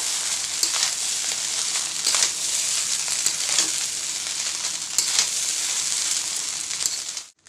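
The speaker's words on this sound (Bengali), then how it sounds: "এইভাবে আমি সুন্দর করে ভেজে নেব সব মিলিয়ে মিক্স করে নেবো" Rice sizzles steadily in a hot pan for a fried rice dish, with a continuous bright hiss broken by regular scraping strokes of a stirring spoon, loud and close, no voices.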